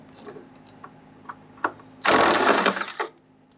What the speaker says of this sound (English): With that supported, we can now go ahead, loosen and remove that 3rd bolt or nut here.